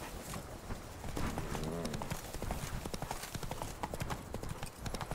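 Hoofbeats of Roach, a horse in The Witcher 3: Blood and Wine, clip-clop steadily in a fast gallop rhythm, close and continuous, with a brief whinny-like sound early on and game ambience underneath.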